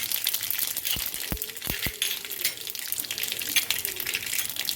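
Mustard seeds and cumin spit in hot oil in a home kitchen as okra is prepared, a bright crackling sizzle with a few sharp pops and clinks of a utensil against the pan.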